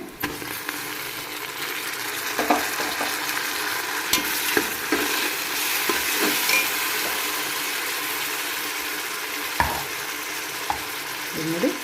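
Tomato goes into onions frying in a spiced tempering for vegetable pulao, and the pan keeps up a steady sizzle. Stirring scrapes and knocks come close and now and then, with no talk.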